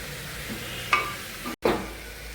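Potatoes sautéing in a pan for a Kerala potato stew, a soft steady sizzle with a couple of brief stirring scrapes and a short clatter, close and fairly quiet.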